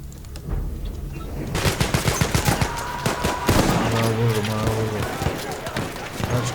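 Rapid automatic gunfire in the Battlefield 1 video game sprays the player in the Argonne Forest, with dense bursts of shots, heavy impacts and a steady rumble of battle under ongoing speech.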